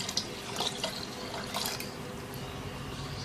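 Water pours steadily into a saucepan holding roughly chopped peaches, a close, continuous splashing and trickling over about three seconds with no voices.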